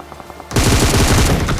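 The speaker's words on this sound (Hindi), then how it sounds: "और उन्हीं गोलियों से मैं इस बंदे को नॉक कर देता हूँ।" Rapid automatic gunfire from a mobile battle royale game erupts abruptly after a quiet moment, a loud dense burst of shots lasting about a second.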